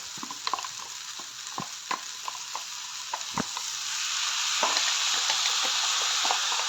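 Ginger-garlic paste goes into a pan of frying Kerala-style chicken curry, bringing a steady sizzle that swells louder partway through, punctuated by scattered scraping stirs and knocks of a spoon against the pan.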